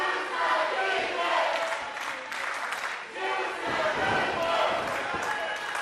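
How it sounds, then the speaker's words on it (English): A wrestling crowd at an independent pro wrestling show cheers and shouts loudly, swelling and dipping in rowdy waves with chants and yells throughout. "Kevin Bryan looking angry that the crowd is supporting Justin Turnbull"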